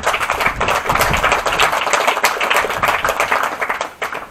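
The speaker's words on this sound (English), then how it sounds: "big round of applause for your 6th place finisher" Audience at a prone rifle shooting competition applauding a sixth-place finisher, a dense continuous round of many hands clapping, loud and close, sustained for several seconds before tapering off at the end.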